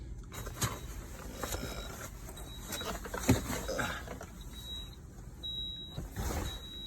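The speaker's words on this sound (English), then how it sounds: "Yeah, that stupid beeping." A truck's low-pressure warning device, tied to tire pressure, gives short repeating high beeps in pulses over a quiet engine idle and faint road noise, with a few knocks and rattles in the cab.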